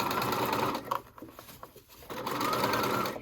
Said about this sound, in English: And you're going to want to pull on it like this as you stitch, and then back stitch